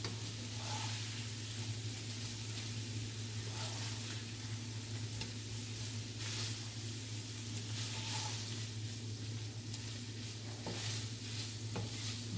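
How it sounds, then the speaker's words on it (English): Italian sausage and gnocchi fry in oil in a pan, giving a steady, loud, close sizzle with faint crackles and a low hum running underneath throughout, with no talking. "All that oil, all that fat is cooking off and kind of lubricating the pan for us."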